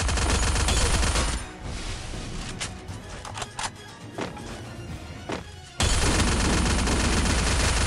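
Shotgun blasts in a battle-royale style shooter game, loud sustained gunfire bursts at the start and end with scattered sharp shots and thuds in between, no talking.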